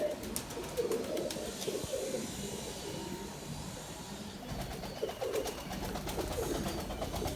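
Pigeons coo in low, repeated throaty phrases nearby, over a constant rumbling background hum; a large female shikra pigeon is among them.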